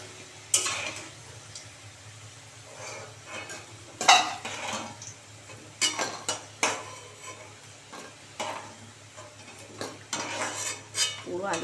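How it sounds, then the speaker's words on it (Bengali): Fried potatoes are lifted out of a pan, with intermittent scrapes and clinks of a metal utensil against the pan over a faint background sizzle. "এবার আলুগুলো তুলে নেব।"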